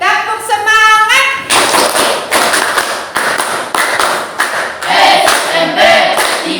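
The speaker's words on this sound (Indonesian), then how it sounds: "Kita pakai tepuk semangat." A school class does a rhythmic chant-and-clap ice breaker, bursts of loud group clapping in patterned beats alternating with shouted chanted voices, close and energetic, with pauses between phrases.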